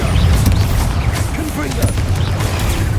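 A Bombarda blasting spell cast in Hogwarts Legacy, booming impacts and crackling combat effects layered with game sounds, loud and near, with a voice speaking over them.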